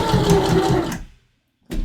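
Sewing machine stitching a rounded-corner patch pocket, a steady rapid mechanical whir of the needle running for about a second, then stopping in silence before a short restart.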